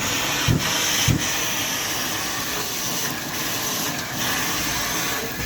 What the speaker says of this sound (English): Do a quick vacuum underneath